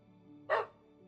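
A single short, sharp yap from a small dog, loud and close, bursting out once over a quiet, steady background hum.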